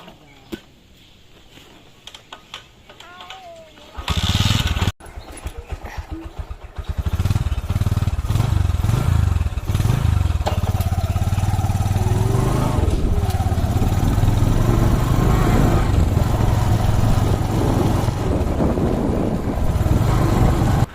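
A motorcycle engine starts after a quiet moment, then runs at a steady loud drone close by during a ride to a Durga Puja pandal, continuing without a break to the end.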